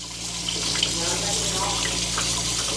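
Water rushing through a clogged sewer line, a steady broadband wash with a low hum beneath it, continuous and fairly close throughout.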